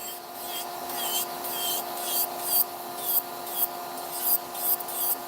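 An electric nail drill removes gel nail extensions, its faint steady motor whine running beneath rhythmic rasping strokes as the bit grinds back and forth across the nail.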